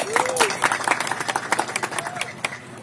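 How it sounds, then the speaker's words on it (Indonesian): Crowd clapping at a sound system expo, a lively burst of dense, loud applause with scattered louder claps and a voice briefly heard through it. "kita sambut dengan tepuk tangan yang meriah"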